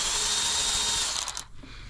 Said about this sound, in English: I like these little Milwaukee cordless ratchet